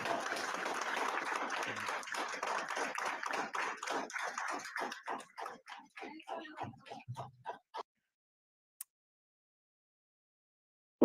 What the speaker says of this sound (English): Listen to all those Democrats sitting there cheering for war.